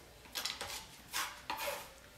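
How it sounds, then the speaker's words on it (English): A knife chops potato chips and pretzels for chocolate chunk cookies, giving a few sharp crunching, clattering strokes on a cutting board, close and fairly loud with short pauses between them. "chopping up potato chips"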